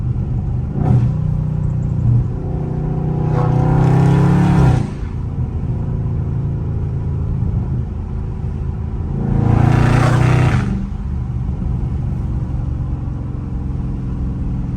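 A Dodge Charger Scat Pack engine in track mode rumbles steadily, then revs up twice in brief, loud bursts of acceleration from light throttle before settling back to a low idle.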